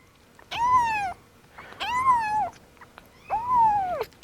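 Three loud, clear meows from orphaned baby kittens of about 14 to 15 ounces being fed as they are weaned onto solid food, each cry rising then falling, spaced roughly a second apart with quiet gaps between.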